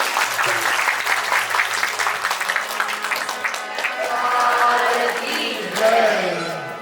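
A temple festival audience gives lively applause for a performer, a loud crowd of clapping hands with voices mixed in, shifting into talk and tonal sounds toward the end.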